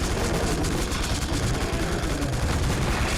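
Turret gunfire in The Suffering video game, a dense unbroken rattle of rapid shots, loud and sustained throughout.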